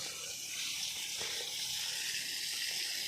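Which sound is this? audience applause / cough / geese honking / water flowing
water flowing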